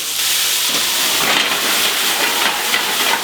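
Cognac poured over caramelized onions on a hot griddle for an Oklahoma smash burger, hissing and sizzling loudly and continuously as it evaporates, with no voices.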